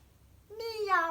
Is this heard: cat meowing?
yes